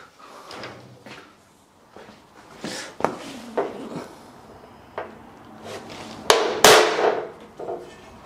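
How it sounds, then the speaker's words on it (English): Hammer striking a center punch on steel checker tread plate while fitting out a Land Rover 110 overland camper, sparse sharp metallic taps with a few heavier blows near the end amid quiet handling sounds. "I'll have to center punch the rest of them."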